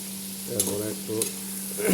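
Chopped onion and tomato being stirred around in hot oil in a pan, with a steady close sizzle, a few scraping stirs and a constant low hum underneath.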